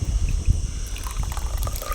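Moroccan tea is poured out of a glass, a close trickling and splashing liquid pour with low bubbling, steady over two seconds without speech.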